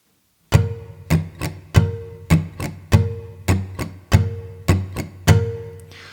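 Acoustic guitar strums a steady pattern of down strums, about a dozen crisp chord hits in an even rhythm, each ringing briefly before the next, close and alone.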